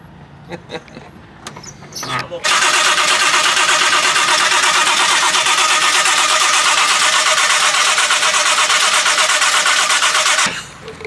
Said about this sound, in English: So I'll crank, you turn until it goes